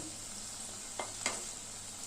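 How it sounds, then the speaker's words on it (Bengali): Potato langcha sweets frying gently in oil over a low gas flame give a faint, steady sizzle, with two soft clinks or stirs partway through and no talking. "গ্যাসের ফ্লেমটা লোতে রেখে কিন্তু মিষ্টিগুলো ভাজতে হবে"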